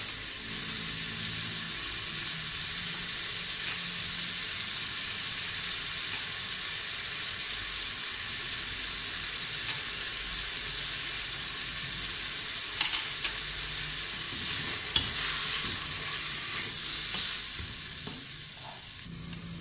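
Spices being stirred into minced meat (qeema) frying in a pan for a qeema naan recipe, a constant close sizzle with scraping stir strokes and a few sharper clinks near the end, no voices.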